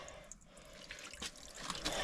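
Water poured from a container into a vessel, a short splashing trickle with small drips rising in a couple of brief louder bursts, close and fairly quiet, no voices.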